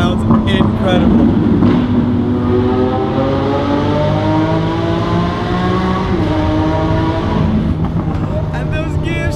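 Lamborghini Aventador S engine revving hard inside a tunnel, a loud, continuous roar that climbs through the revs and echoes off the walls, with a man exclaiming over it.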